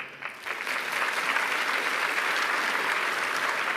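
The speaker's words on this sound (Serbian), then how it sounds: "Jedan veliki aplauz vama lično" Applause from a crowd of managers at a business event swells up within the first second, then continues as a full, sustained roar of clapping with no voices.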